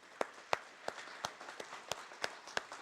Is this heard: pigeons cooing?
no